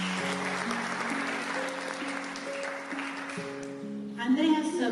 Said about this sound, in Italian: applauso ancora